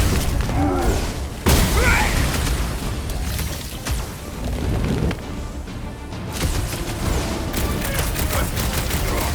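Rapid gunfire and booming blasts from a Guardians of the Galaxy video game fight, loud and dense bursts filling the scene with battle noise throughout, with faint voices mixed in.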